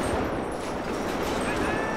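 Gunfire crackles in the video game GTA5 during a zombie fight with assault rifles such as the Type 89 and SCAR-H, a dense, fairly faint rattle of rapid shots.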